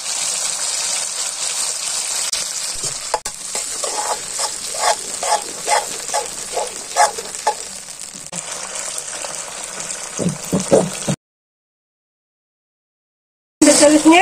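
Onions and sausage frying in a pan for a Thai-style paprik dish, a steady sizzling hiss with bursts of clattering as pieces are stirred, then a short silence before loud sizzling resumes.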